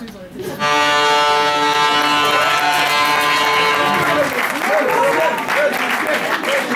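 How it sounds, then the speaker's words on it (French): Comedy club audience at a stand-up show in Brussels applauding and cheering, a loud sustained roar of clapping with a long horn or whistle tone over the first few seconds and voices shouting beneath. "Applaudissements pour Cracotte Boy"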